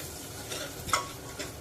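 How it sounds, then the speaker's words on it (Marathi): Turmeric sautéing in a hot garlic-ginger tempering for toor dal, with a faint, steady sizzle and a brief soft stirring scrape, no voices. "हळद घातल्यानंतर तिचा कच्चेपणा जाईसपर्यंत तिला परतून घ्यायची आहे"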